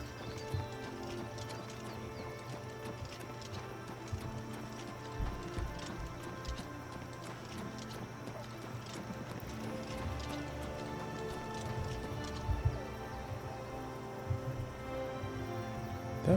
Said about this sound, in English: but no, it's a horse.